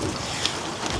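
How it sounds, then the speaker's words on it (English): Rain falls outdoors and is heard from indoors as a steady, soft, even hiss with no clear separate drops. "It is raining outside, otherwise I'd have this camera outside."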